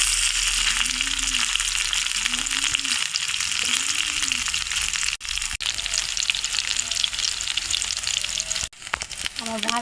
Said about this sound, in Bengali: কাবাবটা মাংসের মিশ্রণটা আমার দেওয়া হয়ে গেছে তেলের উপর